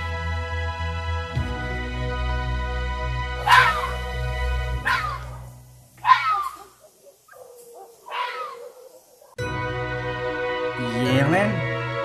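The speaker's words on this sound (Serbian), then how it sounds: "lisica" A fox gives a series of sharp, hoarse barks spaced a second or so apart, standing out over steady background music.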